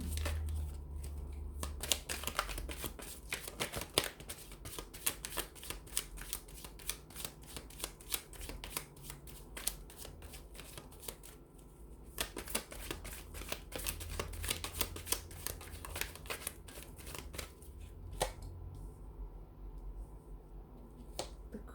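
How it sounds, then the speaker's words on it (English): Tarot cards being shuffled over and over, a steady run of soft riffling flutters and sharp card snaps at close range, with no talking. "we'll give the cards a shuffle here"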